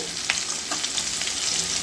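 Ginger, a split green chili and chopped onion fry in a pan for a Bengali prawn masala, giving a steady close sizzle with a few light stirring scrapes and no talking.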